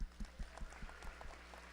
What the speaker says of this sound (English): Let's give them all applause.